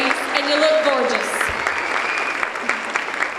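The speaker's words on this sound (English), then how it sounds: "give these ladies who also participated a big round of applause" Audience applause for pageant contestants at the 2012 Country Days Queen Pageant, a dense, steady clapping that fills the short stretch at a moderate level, with a voice faintly present beneath it.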